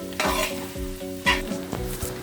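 Beef roasting dry in oil with crushed garlic and curry leaves, Kerala style, stirred in the pan: a strong steady sizzle with repeated scraping strokes of the spoon roughly every half second, close and without talk.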